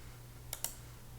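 Two quick, crisp mouse clicks come close together, up close and quiet, over a low steady hum with no talking.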